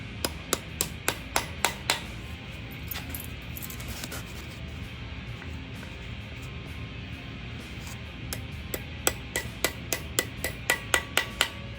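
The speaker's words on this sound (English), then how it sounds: "It's a calibrated torque hammer is what he's using here." Sharp, evenly spaced metallic taps from a calibrated torque hammer on a Gen V LT1 stroker engine build, in quick bursts near the start and end with a quieter stretch of workshop ambience between.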